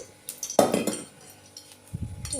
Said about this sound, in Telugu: ఒక గిన్నె పెట్టుకోండి